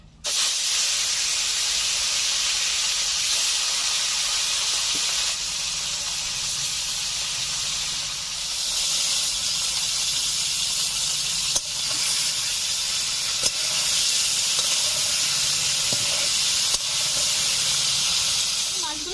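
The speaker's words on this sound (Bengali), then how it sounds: "দেখুন কড়া প্রচন্ড গরম হয়ে গেছে, একদম গরম ধোয়া উঠছে। মাছগুলোকে দিয়ে দিচ্ছি।" Fish pieces sizzling as they drop into smoking-hot oil in a wok, a loud, steady frying hiss that fills the whole stretch with a few brief pops.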